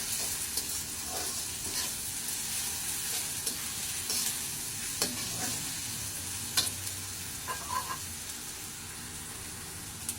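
Steady sizzling of food frying in a pan, with scraping stir strokes and occasional clinks over the continuous crackle, close up and fairly loud.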